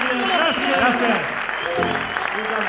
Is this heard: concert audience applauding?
yes